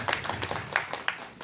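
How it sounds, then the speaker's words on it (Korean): A small church congregation claps for the accompanist during a service, with scattered, uneven claps and a few louder individual slaps across the short moment. "오늘 우리 수관 반주 자녀한테 박수 한번 좀 칠까요?"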